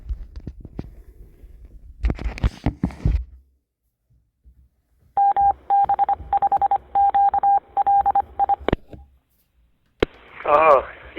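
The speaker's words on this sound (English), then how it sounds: "we're on a repeater right now. That was the ID for it." An amateur radio repeater's identification signal comes over an Echolink connection, a steady tone keyed in rapid on-off bursts after some voice transmissions, with a squelch tail and a warbling burst at the end.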